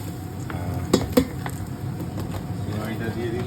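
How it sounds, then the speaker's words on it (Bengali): A utensil scrapes and stirs already-fried vermicelli in ghee in a pan, with a soft steady sizzle and a couple of sharp metallic clinks near the start. "তাও আমি একটু ঘিয়ে নেড়ে নিচ্ছি"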